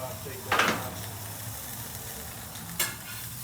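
Burger patties sizzle steadily in a hot pan for a bacon pineapple barbecue burger, with two louder scraping bursts rising briefly above the constant hiss.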